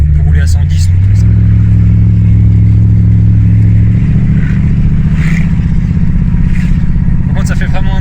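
A 1979 Chrysler Cordoba 300 with a 5.9-litre 200 hp V8 drones loudly and steadily while cruising toward a dual carriageway, a deep rumbling exhaust filling the cabin as someone talks over it.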